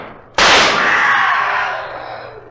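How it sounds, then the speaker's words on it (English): A single loud pistol shot fired outdoors in a moonlit cemetery in a Sherlock Holmes radio drama, a sharp crack followed by a long ringing decay, with no voices. "Quick, fire your pistol."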